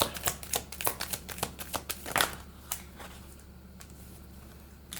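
Tarot cards riffle and slap in a rapid burst of crisp shuffling clicks, dense at first and thinning to a few isolated snaps, close and fairly quiet over a low steady hum.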